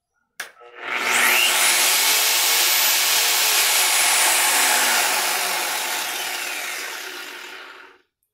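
A Stanley SP137K polisher switches on with a click and ramps up into a loud, steady whirring whine that holds for several seconds before slowly tapering and cutting off, close by with no talk.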